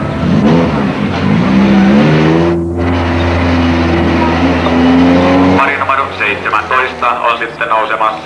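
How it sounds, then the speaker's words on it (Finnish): Toyota Corolla 1600 GT rally car at the start of a 1992 rally in Imatra, its engine droning loudly and steadily, then revving harder as it pulls away, with a commentator talking over it. "Toyota Corolla 1600 GT:llä pari on lähdössä liikkeelle."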